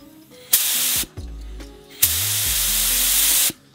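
A compressed-air paint spray gun coats a car quarter panel in a workshop, firing in two long hissing bursts of about half a second and a second and a half, each ending with a low air thump and a brief pause.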